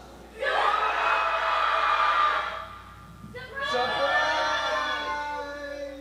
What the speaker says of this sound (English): I know what you're wondering, what all the cheering was about